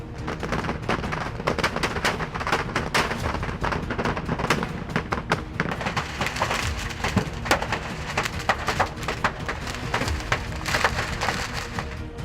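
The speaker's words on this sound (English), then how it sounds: "a rapidly spreading fire in the garage containing a large number of fireworks, causing multiple explosions" Dense, continuous crackling and popping bursts of fireworks going off in a roaring fire, with sharp loud cracks scattered throughout and no pauses.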